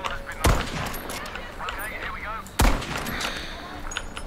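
Artillery fire in a video game: two loud, sharp blasts about two seconds apart, each with a rumbling tail, over a busy background of game sounds and faint chatter.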